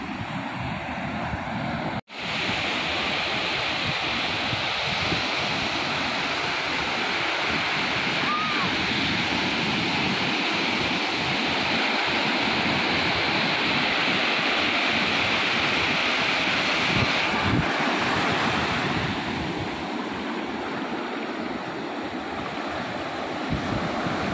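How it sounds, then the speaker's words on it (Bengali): Strong sea waves on Vizag beach roar continuously, a loud, dense wash of surf that swells and rolls without break, with some wind buffeting. "জলের বেশ তেজ আছে, ঢেউগুলো একদম গর্জন করে আসছে।"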